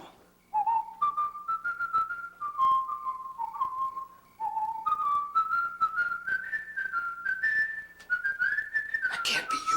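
A person whistles a wandering melody of sustained notes stepping up and down in pitch, clear and close, in phrases with short breaks, in a quiet indoor bedroom setting.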